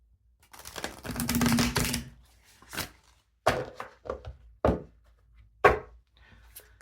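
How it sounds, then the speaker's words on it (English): Tarot cards riffle in one dense burst, then several sharp taps and thumps follow in an uneven rhythm, close by and fairly loud, with no talking. "One more shuffle here"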